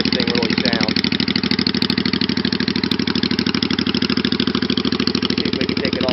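Honda Shadow VT500 bobber motorcycle idling through its exhaust pipes, a steady, loud, close-up rhythmic throb that continues without a break.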